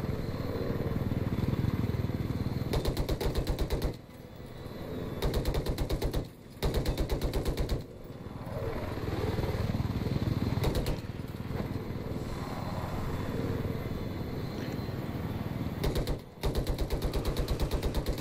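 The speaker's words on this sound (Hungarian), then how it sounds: "Épp egy szép lövést láthattuk Mumpiusustól." Machine-gun fire rattles in Battlefield 4 during a friendly Polish versus Hungarian match: several loud, rapid bursts of a few seconds each stand out from the dense, continuous battle noise.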